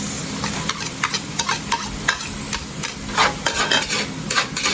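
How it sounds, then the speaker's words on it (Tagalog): Garlic and onion sizzle as they hit hot natural coconut oil in a pot, with a steady frying hiss punctuated by sharp crackles and scraping stirs, close and clear with no talking. "sabay ko na itong ilalagay, yung bawang at sibuyas"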